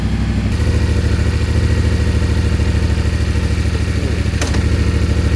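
CFMOTO Ibex 450 motorcycle engine pulling away on a street after an ECU tune, a loud, close, steady mid-pitched engine drone with a throttle change at the start and a brief clatter near the end.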